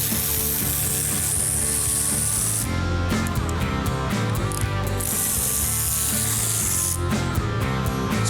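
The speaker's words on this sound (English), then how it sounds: "So now I'm going to undo all the bolts that hold the third member in place" Ratchet wrench undoing the bolts that hold the third member of a 1971 'Cuda 340 convertible in a shop, a loud, steady run of fast clicking with brief pauses between strokes.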